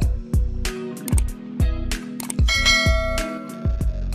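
A notification bell sound effect rings out in a quick series of bright, metallic strikes, about eight in a row, close and fairly loud with no talking.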